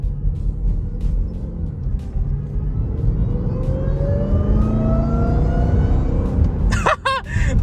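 A Dodge Scat Pack with a cold air intake rumbles with a deep, loud engine note that rises steadily as it accelerates, heard from inside the car, ending with a brief sharp sound.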